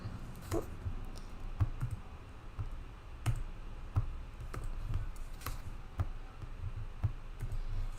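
Computer keyboard typing as quiz answers are entered, a steady run of light, close clicks and taps with irregular spacing and no talk.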